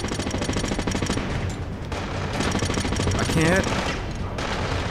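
Gunfire from the video game Killzone Mercenary, dense continuous automatic shooting layered with game sound, with a voice speaking briefly over it.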